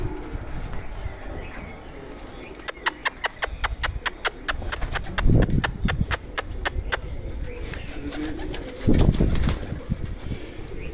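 Pigeons of the Chinese breed kept at a home pigeon show in Sargodha, with a quick, evenly spaced run of sharp clicks or wing claps in the middle and soft low cooing over a murmuring background.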